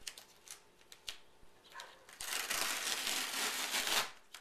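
A sheet of duct tape peeled up from a table edge, a few sharp crinkles and taps at first, then a loud sustained ripping, crackling tear for about two seconds, close and with no talking.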